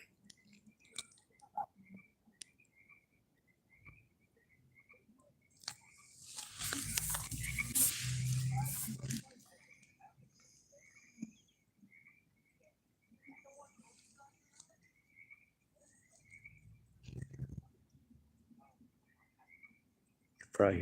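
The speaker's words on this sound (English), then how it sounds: "You can probably hear the frogs." Frogs croak at night in Tillamook, Oregon, a sparse run of short, faint calls spread across the stretch, with a burst of louder noise in the middle and quiet talk now and then.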